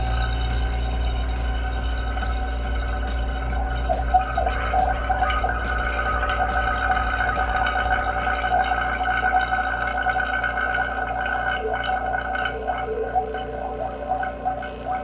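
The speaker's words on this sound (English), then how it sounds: "here we have a little bit of water in our vacuum pump." Water bubbling and gurgling inside a vacuum pump chamber, a steady churning fizz with small irregular pops running continuously over a low pump hum.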